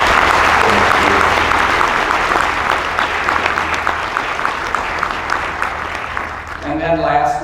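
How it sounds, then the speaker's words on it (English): A crowd applauds at the close of a final community event, filling the room with dense, sustained clapping near and loud that thins out slightly toward the end, as a voice begins to speak. "We could give her a round of applause."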